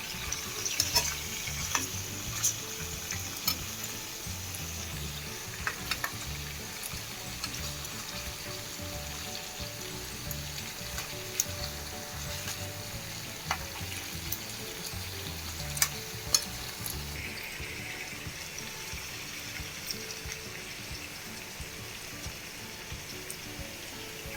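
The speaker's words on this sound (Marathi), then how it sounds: "बघूया परत आपले व्यवस्थित फ्राय झाले बघा चिकन" Chicken for Malvani-style kombdi vade fries in oil in a covered pan, giving a steady, close crackling sizzle with occasional sharper pops and no voices.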